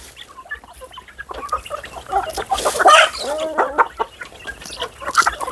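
Several chickens let out of their coop cluck and squawk close by in a busy, overlapping chorus while being fed, with scattered pecking and scratching noises throughout.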